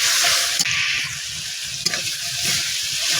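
Ash gourd and shrimp curry with grated coconut stirred in a hot pan, a continuous close sizzle of frying with a few sharp scrapes of the spoon against the pan.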